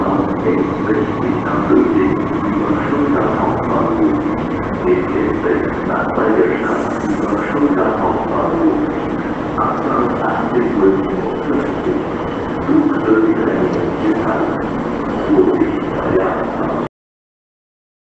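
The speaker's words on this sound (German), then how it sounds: "Gleis 2, Einfahrt S1 nach Kirchheim über Stuttgart-Hauptbahnhof, Abfahrt 18:55 Uhr. Vorsicht bei der Einfahrt." An S-Bahn S1 train pulls into the underground platform at Stuttgart Schwabstraße with a sustained rumbling, squealing roar that lasts several seconds before cutting off abruptly.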